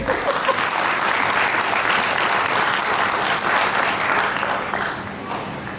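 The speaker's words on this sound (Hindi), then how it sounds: "बीच बीच में थोड़ा ताली वाली बजा देना" An indoor audience at a stage talk claps in dense, steady applause that holds strong and then gradually tapers off toward the end.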